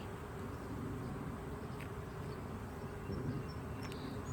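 Honey bees hum in a low, steady drone around an open hive, quiet and continuous with no voices.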